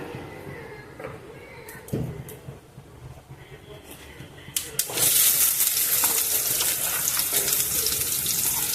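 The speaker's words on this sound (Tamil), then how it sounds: "எண்ணெய் சூடானதும் கடுகு கடலப்பருப்பு நம்ம வெட்டி வச்ச வெங்காயம்" Mustard seeds, chana dal and onion hitting hot oil for beans poriyal, a few clinks and taps before a sudden loud, bright sizzle that holds steady to the end.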